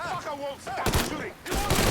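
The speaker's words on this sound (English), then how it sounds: "Fucker won't stop shooting." A voice speaks briefly, then enemy gunfire in the video game Mafia III bursts in as loud, dense volleys, pausing once before another heavy barrage.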